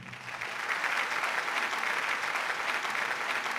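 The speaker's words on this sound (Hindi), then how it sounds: "इसलिए तालियां कुछ कम लग रही हैं।" An audience at a mushaira, an Urdu poetry gathering held in Dubai, applauds continuously, a dense, steady patter of many hands heard from a moderate distance.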